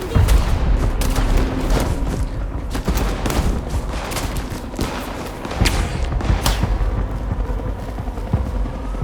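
Dense gunfire from a Bloodlines 2 video game fight, with rapid overlapping shots and booming impacts that stay loud and continuous throughout, fairly close and intense.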